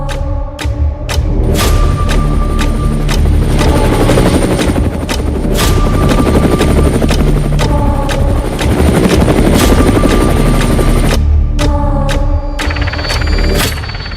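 An Indian military light combat helicopter flies close and loud, its rotor chopping in a dense, continuous rhythm with turbine whine, swelling as it passes and easing briefly at moments.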